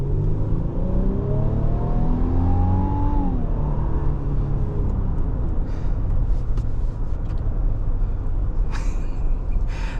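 A 2025 Infiniti QX80 Autograph accelerates from inside the cabin, its engine note rising in a smooth, steady sweep under a constant road rumble.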